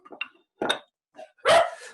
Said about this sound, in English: Oops, my dog there.